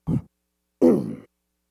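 Someone clears their throat twice: a short rough grunt, a pause, then a longer gravelly rasp, close and alone in a quiet room.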